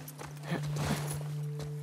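Horse hooves clop at a walking pace in the video game The Last of Us Part II, a few soft uneven hits over a steady low hum, fairly close.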